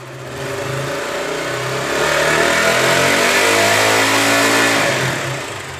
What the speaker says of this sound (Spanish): Vamos a acelerar la motocicleta.